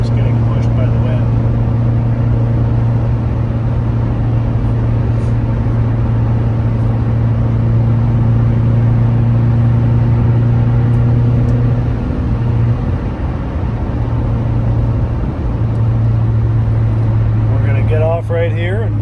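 A 2009 Subaru Impreza wagon with a five-speed manual cruises at highway speed on a windy day, giving a loud, steady low engine and road drone with continuous tire and wind noise.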